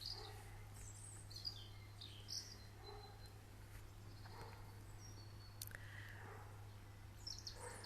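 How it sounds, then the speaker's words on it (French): Small birds chirping and calling outdoors in short scattered bursts, faint and distant, over a quiet background with a steady low hum and insect-like buzzing. "pour écouter les oiseaux avec moi."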